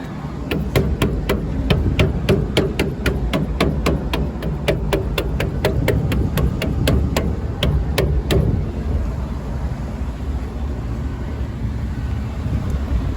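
Sharp, evenly spaced taps on a freezer's condenser coil, around thirty metallic knocks over roughly eight seconds to shake water out, heard close over a loud steady roar of wind or machinery that continues after the tapping stops.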